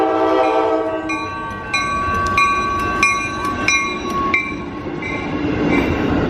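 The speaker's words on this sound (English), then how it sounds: "And now the next inbound train we have is our train." An Amtrak train passes a small seaside station in Maine, its rumbling wheels and wagons rolling by loudly as the horn sounds in several short repeated blasts over the steady rail noise.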